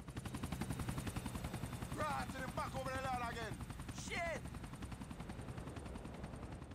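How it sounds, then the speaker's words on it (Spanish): A helicopter in the video game GTA IV thrums with a steady rotor pulse throughout, while bursts of in-game gunfire and a player's voice sit on top of the chopping drone. "Ese helicóptero iba muy rápido."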